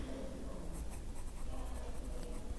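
A pen scratches steadily across paper in close, continuous strokes, with no talking.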